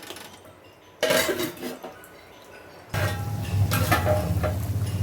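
A metal lid clanks down onto a pot of fish curry with coconut, mango and okra twice, the second settling with a rattle over a bubbling, steady kitchen background.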